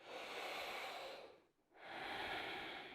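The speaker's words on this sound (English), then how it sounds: "take a deep breath in and out" A person takes a slow, deep breath in and then out during yoga sun salutations, a long, close, airy hiss for each phase with a brief pause between them.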